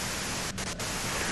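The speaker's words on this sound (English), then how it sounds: "If you've got something really important to say, you can do it through the white noise." Loud, dense white-noise static hisses in the video game Disco Elysium, steady and broadband, broken by two brief dips partway through before resuming at full strength.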